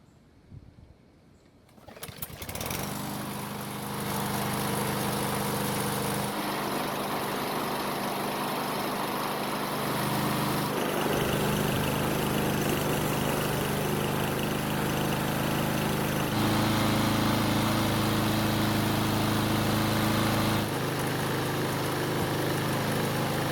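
Small lawn mower engine starting on a single pull, then running at a steady, loud idle that holds for the rest of the time, close by, with no talking.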